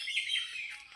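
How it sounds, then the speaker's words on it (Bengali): Birds chirping near a cardamom garden on an overcast day with light rain, a faint, continuous high twittering heard from a distance. "পাখিগুলো কিচকিচ করছে"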